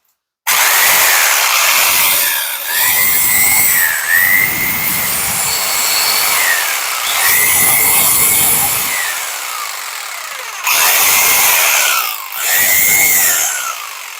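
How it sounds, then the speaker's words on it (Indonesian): Hasston Art. 3090-011 jigsaw run at maximum on speed 1: a loud, close, continuous buzzing whine with blade chatter and gliding pitch changes, a few brief dips in level, no voices. "Untuk speed 1 coba kita maksimalkan."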